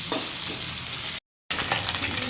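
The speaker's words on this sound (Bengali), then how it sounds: "আর একটু সময় মাথাটা ভেজে তারপর ঘাটাটা বানাবো" A fish head fries in oil with a loud, close, continuous sizzle and crackle, cut by a brief moment of total silence before the frying noise resumes.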